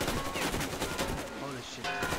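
A gun fires in the video game Metro Exodus, rapid close shots packed into a dense, loud burst lasting about two seconds.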